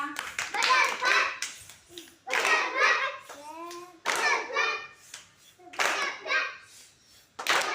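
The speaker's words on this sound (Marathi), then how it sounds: "दोघांसाठी पण एकदा जोरात टाळ्या वाजवा" Loud bursts of clapping from a group of schoolchildren in a classroom, several rounds of applause broken by short gaps, with children's voices and talk mixed in.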